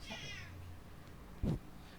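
A cat gives a short, faint meow near the start, followed by a brief louder thump-like sound, in an otherwise quiet indoor room with no talking.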